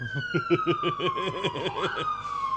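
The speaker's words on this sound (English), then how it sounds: "we're just waiting for an ambulance to pass." An ambulance siren passes along a downtown Vancouver street, its rapid warbling wail sweeping up and down, loud and near, then its pitch drops as it goes by, over traffic and street noise.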